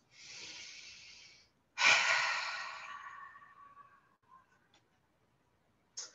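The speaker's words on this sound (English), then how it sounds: "Take a nice inhale through your nose and exhale out your mouth." A person breathes deliberately during a chair-based relaxation exercise: a soft, sustained inhale through the nose, then a longer, louder airy exhale through the mouth, close and quiet, ending with a brief sniff.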